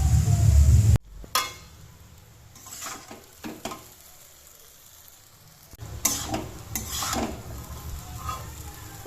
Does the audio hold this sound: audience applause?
no